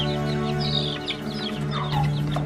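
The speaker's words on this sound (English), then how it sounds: "hens, roosters, and baby chicks" Hens, roosters and baby chicks cluck and chirp together in a rescue setting, a close, busy overlap of short clucks and high peeps over a steady low hum.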